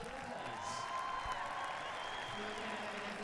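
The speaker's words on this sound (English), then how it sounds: "You can hear the crowd in the background welcoming Eric Lamaze into the stadium." Stadium crowd at a show jumping grand prix in Canada applauding and cheering as a rider enters the arena, a faint, distant, steady wash of clapping and crowd noise.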